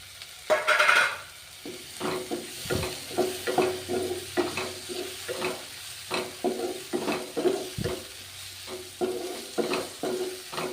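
Curry leaves and tomato fry in a pan for a quick bread snack, with a soft sizzle under repeated rhythmic scraping strokes of a spoon stirring close by.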